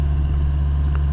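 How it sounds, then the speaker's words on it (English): A steady low engine hum from a farm water pump drones continuously nearby, a mechanical motor running without change in pitch. "a farmer has his pump running."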